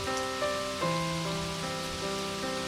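Cartoon rain sound effect: a steady rainfall hiss sits under a layered tonal background, short and continuous with no voices.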